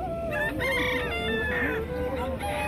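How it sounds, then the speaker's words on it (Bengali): Several roosters crow in overlapping calls while hens cluck, close and loud over a steady farmyard background. "এই যে সব মোরগ"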